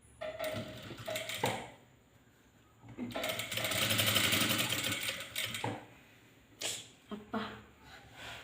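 A sewing machine attaches canvas inside a blouse in short stitching bursts, one longer run in the middle, with pauses between runs and a voice heard now and then.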